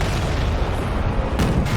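A Churchill tank is blown apart in the Company of Heroes video game, a loud, dense explosion rumbling continuously with a deep, roaring low end and a brief brighter swell near the end.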